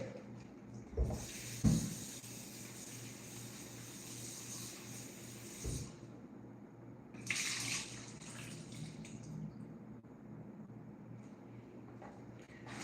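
A kitchen tap runs while fresh tuna is rinsed, a soft hissing stream of water with a few louder splashes and knocks early on, then quieter flow that surges again briefly midway.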